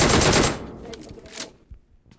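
Automatic gunfire from the BGMI battle royale game, a dense loud burst for the first half second followed by scattered softer shots and fading impacts.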